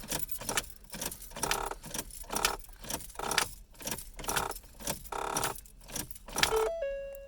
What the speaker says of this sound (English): You got to cycle the key on and off 6 times until you hear a ding.